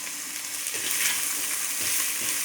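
Sliced onion sautéing with ginger and garlic in a pan for a potato roast, giving a steady close sizzle with a few soft stirring scrapes and no voices.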